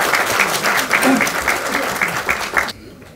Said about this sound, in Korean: 오늘 그동안 고생 많으셨다는 의미에서 큰 박수 부탁드립니다